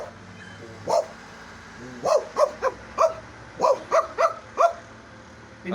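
A man mimics a big dog with his voice, giving about a dozen deep, gruff woofs, first single and spaced, then in quick bursts of two and three, close and loud.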